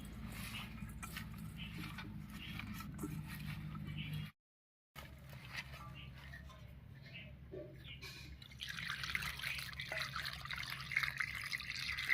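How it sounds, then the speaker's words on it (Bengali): Taro leaves being washed with salt and water make a steady wet trickle and rub, broken by a brief silent gap, then grow into brighter, louder splashing toward the end. "লবণটা দিয়ে একটু মেখে নিচ্ছি তারপর জল দিয়ে পরিষ্কার করে ধুয়ে নেব"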